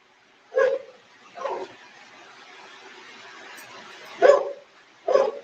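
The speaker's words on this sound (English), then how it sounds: "That's one of our rescue dogs that likes to come around the corner and bark" A rescue dog in a barn barks in a few sharp bursts, a pair early then two more after a pause, fairly close with a low hum between.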